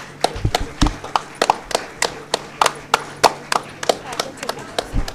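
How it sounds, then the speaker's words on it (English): An audience at a school function claps in a steady, brisk rhythm for children, each clap sharp and close, repeated about three times per second with a murmur of voices beneath. "Please clap louder."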